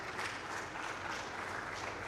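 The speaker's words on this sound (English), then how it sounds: "Why don't we give the PSST a standing ovation?" Audience giving a standing ovation at a conference session, steady dense clapping throughout, moderately distant and sustained.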